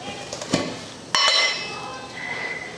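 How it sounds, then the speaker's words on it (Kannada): A metal pot is set down on a kitchen stove while cooking mint rice, with a couple of sharp clanks and a ringing metallic clatter, close and clear. "ಮೊದಲೇದಾಗಿ ನಾ ಈಗ ಒಂದು ಪಾತ್ರೆ ಇಟ್ಕೊತೇನೆ ರೀ"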